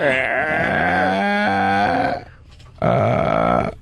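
A voice drawing out a long, wavering, creaky vocal tone that imitates a creaking door, breaking off briefly before a second creaky stretch.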